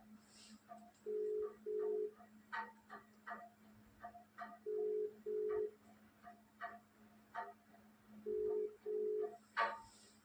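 An outgoing telephone call rings through the earpiece in three faint double-ring bursts, with soft clicks and taps scattered in between and no voices.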